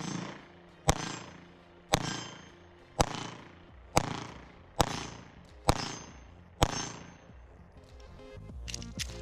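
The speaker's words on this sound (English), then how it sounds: "I want to shoot more, so we're going to keep shooting." Seven sharp, evenly spaced shots from a Smith & Wesson M&P Shield 2.0 9mm pistol at a shooting range, each a loud crack with a ringing decay, followed by quieter clattering.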